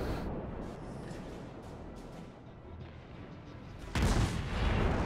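Ship artillery fire in the naval combat game World of Warships: a steady rumbling battle bed with scattered booms, then a loud, broad blast from about four seconds that keeps roaring to the end, no voices.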